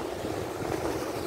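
Steady wind rushes and buffets across the microphone outdoors on a very windy day, a constant broadband roar with no voices.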